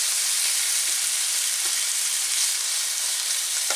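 Goose stir fry sizzling in a pan on an electric stove, a continuous bright hiss of frying, steady and close with no talking.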